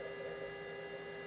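CNC router spindle turning a 1/4 inch full-nose round bit, cutting a shallow slot into an aluminum wheelchair-motor adapter; a steady, fairly quiet whine and hum run unbroken throughout, with no voices.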